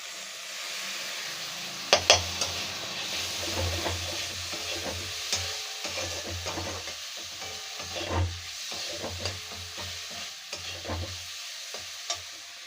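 Chopped tomato with salt and turmeric frying in a hot pan for a Bengali chingri macher malaikari, with steady sizzling and repeated stirring scrapes up close, no voices.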